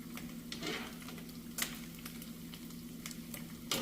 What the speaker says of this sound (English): Sometimes you gotta move some bacon from one side of the skillet to another